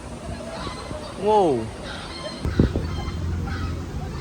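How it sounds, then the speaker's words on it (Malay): Chickens and ducks at a city farm, with a brief loud honking-clucking call near the middle and scattered fowl sounds around it, under a person's exclamation and nearby talk. "Ini ada ayam, ada itik."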